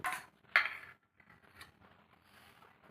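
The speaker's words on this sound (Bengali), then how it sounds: "এবার আমার ভাতটাও বেড়ে নিই।" Spoonfuls of cooked rice served onto a plate at home, a couple of sharp clinks of a utensil against the dish followed by quieter scraping and tapping.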